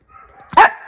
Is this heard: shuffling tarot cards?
no